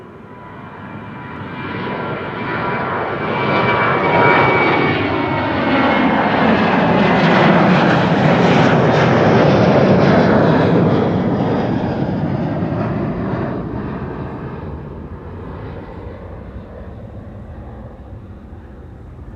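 Air Serbia jet airliner passing at Amsterdam Schiphol airport, a broad engine roar that swells over several seconds, peaks near the middle and slowly fades as the plane moves away, with no talk.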